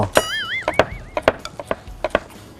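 Several sharp knife chops on a cutting board while preparing Thai spicy grilled pork salad, irregular and close, with a whistling tone sliding in the background early on.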